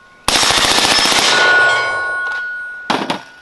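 Rapid automatic gunfire from an Alamo-15 rifle with an FRT forced-reset trigger: a loud, dense string of shots for over a second, ringing out, then a brief second burst near the end.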